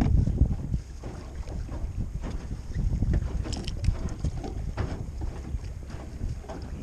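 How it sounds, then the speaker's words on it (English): Wind buffets the microphone on a boat at a marina, with gusty low rumbling and water sloshing throughout at moderate level, no talking. "the wind is blowing directly against me, and the current is going directly against me"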